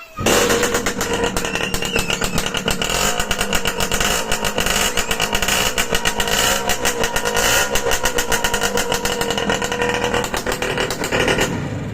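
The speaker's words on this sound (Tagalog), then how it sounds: "medyo maingay mga kamikaniko kasi naka-stainless na silencer" Suzuki X4 motorcycle engine with a stainless steel silencer revving loudly and steadily, a rough, buzzy exhaust drone with rapid pulsing firing beats filling the whole stretch.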